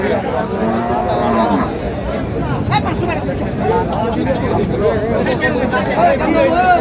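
Several cattle and bulls moo loudly at a livestock market in Ambari, Dinajpur, their low calls overlapping with people chattering close by in a noisy, crowded setting.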